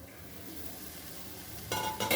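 Kochur loti with dried fish frying in a little oil in a covered pan, giving a soft, faint steady sizzle that sharpens near the end.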